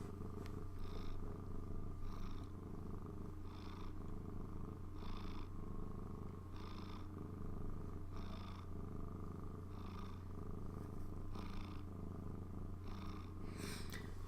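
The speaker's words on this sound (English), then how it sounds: "You've never heard a cat purr that loud." A cat purrs loudly and close up, a steady rumbling drone pulsing in a regular rhythm of about one breath cycle every second and a half, continuing alone for the whole stretch.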